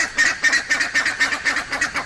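A pair of buff-necked ibis duet in a crater full of bird life, trading loud, nasal honking calls in a quick, regular rhythm, close and clear with no voices.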